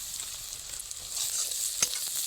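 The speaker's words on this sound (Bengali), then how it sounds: "একবার দুবার নেড়ে নিচ্ছি।" Red chilli powder and garam masala fry in a pan with chopped green chilli for potato and cauliflower chop filling, a soft steady sizzle with a brief scrape of stirring near the end.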